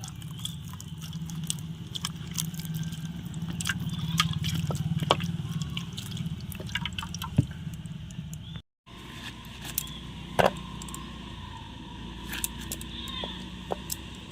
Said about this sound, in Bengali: আনারসটা পরিষ্কার জলে এবার ধুয়ে নিচ্ছি।